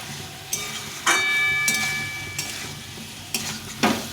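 Large tomato pieces go into a pan of frying new potatoes and cauliflower, bringing a soft background sizzle broken by several sharp clatters and spoon scrapes as they are added and stirred, with no talk.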